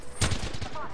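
Video-game gunfire bursts in a one-second span, a dense rattling volley at the start that tails into quieter follow-up shots, loud and close, with no talking.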